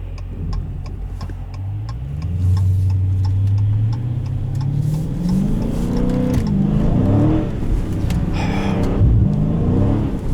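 A 2017 Dodge Challenger T/A with the 392 V8 and automatic transmission pulls hard in third gear, its deep exhaust note climbing steadily in pitch over about ten seconds, loud and close from inside the cabin, with faint ticking in the background.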